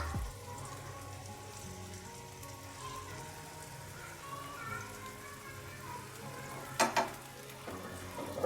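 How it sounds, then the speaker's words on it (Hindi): Tomatoes frying gently in oil in a pan over low heat for a chicken neck curry, giving a steady soft sizzle throughout with a couple of brief louder clatters near the end. "ये खुद ही तेल में हल्का हल्का फ्राई हो जाएगा, टमाटर बिल्कुल नरम हो जाएगा"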